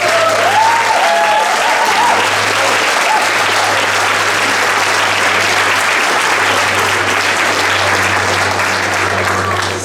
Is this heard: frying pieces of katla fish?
no